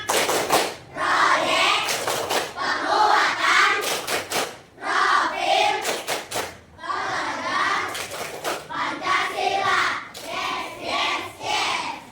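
A primary school class clapping back a rhythm pattern to the teacher, with short bursts of group claps and thumps between stretches of children's voices.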